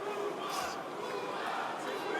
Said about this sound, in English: We can hear the chants for Kuba coming from the crowd.